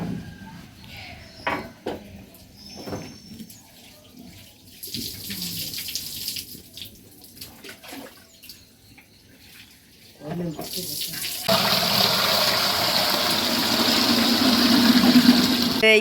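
Hot water for a ritual bath during a traditional Tulu household ceremony: quiet clattering and movement first, then water pours and splashes loudly and continuously through the final third.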